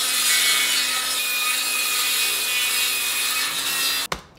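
Continuous rasping saw stroke cutting through wood for a steam-bent chair, loud and close, running steadily for about four seconds before ending in a sharp knock.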